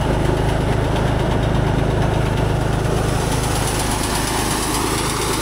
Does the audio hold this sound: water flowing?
no